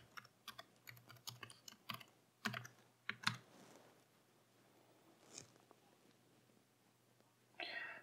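Quick bursts of key presses on a Mac keyboard as an administrator password is entered, close and faint, with a few louder clacks and pauses between clusters.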